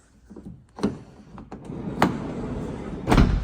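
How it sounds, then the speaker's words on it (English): The power-latching sliding door of a 2023 Volkswagen Transporter T6.1 Kombi conversion closes with a soft slide, several latching clunks and a final heavier thud, nearby and without speech. "So once the door's been pulled to, if it hasn't quite grabbed, it will slowly close it in"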